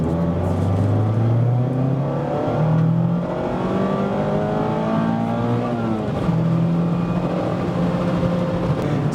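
A Mazda MX-5 Miata ND3 is driven hard through a set of corners on a road, its engine revving up and down as it repeatedly accelerates and shifts, loud and continuous from inside the car.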